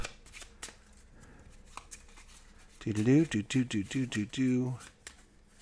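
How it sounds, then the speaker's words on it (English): Forty personality cards from the Auztralia Big Box Edition board game are shuffled up close, a run of soft riffling rustles that rise sharply in the second half before trailing off. "You're then going to find your 40 different personality cards. Shuffle those up."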